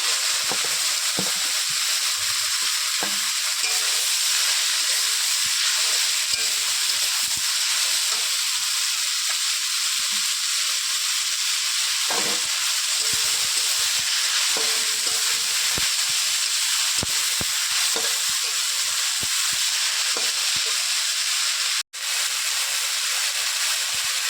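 Gunri shak greens fry in hot oil with radhuni and cumin seeds, giving a steady loud sizzle and hiss throughout, with occasional clinks and stirring sounds and no talk.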